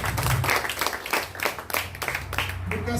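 Church congregation applauding during a worship service, a steady wash of clapping that fills the full stretch at moderate level, with some voices mixed in underneath.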